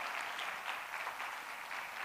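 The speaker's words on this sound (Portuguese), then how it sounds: "Aplauda o Senhor, por favor." A church congregation applauds together in a steady, even wash of clapping that holds at a moderate, slightly distant level throughout.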